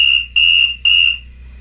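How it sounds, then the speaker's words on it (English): Three loud, shrill whistle blasts in quick succession, each a steady piercing tone of about a third of a second, the last trailing off, heard close up with no talking. "It's gonna be 3 whistle blasts."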